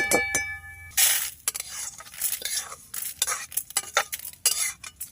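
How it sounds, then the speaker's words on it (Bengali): A spoon stirs Gobindobhog rice in a pan, giving repeated scraping and clinking strokes against the metal, quick and irregular over several seconds, close and fairly loud, with a faint sizzle underneath and no voices. "মানে অনবরত নাড়তে হবে চালটা"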